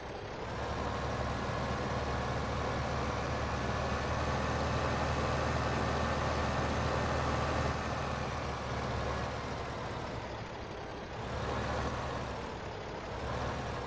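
A steady, droning video game tractor engine in Farming Simulator 15 rumbles continuously at close range, holding a low idle-like tone with slight swells in loudness and no voices.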